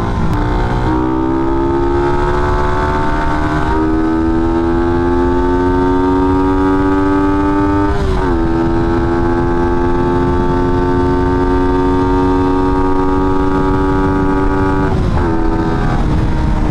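Suzuki Raider 150 Fi motorcycle accelerating hard through the gears up to fourth, engine whine rising steadily with two brief dips at the shifts, loud and close under strong wind rush.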